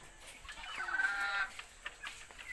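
Chickens cluck and chatter in a busy flock, a rising squawk standing out briefly amid steady background noise.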